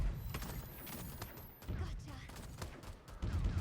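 Heavy rifle fire from the mech battle game Super Mecha Champions, rapid bursts of gunshots and blasts rumbling close, mixed with game effects while a player talks over it.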